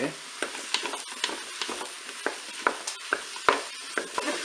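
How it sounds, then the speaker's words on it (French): Mushrooms are stirred and browning in a Cookeo multicooker: a soft frying hiss with a series of sharp spoon clicks and scrapes against the pot, fairly close and moderately quiet. "je vais ajouter mes champignons. Je vais mélanger."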